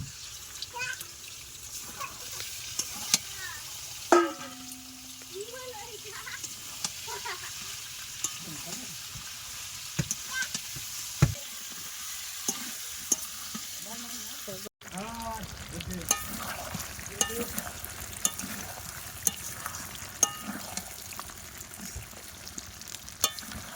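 Chicken meat frying and being stirred into a well-cooked turmeric masala in a pan, with a steady sizzle and repeated scraping stir strokes throughout, fairly close.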